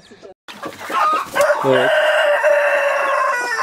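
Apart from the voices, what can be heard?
chicks and hens clucking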